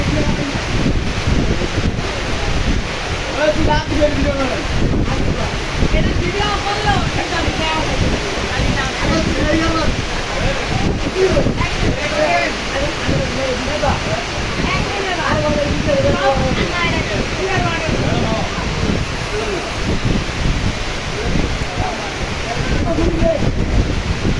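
River waves wash and churn as children swim, a loud continuous roar of water mixed with wind buffeting, with voices and excited children's calls scattered through it.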